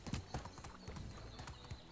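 Horse hooves clip-clop at an unhurried, uneven pace as a horse-drawn wagon passes in the medieval village game Medieval Dynasty, fairly close and quiet, with no talking.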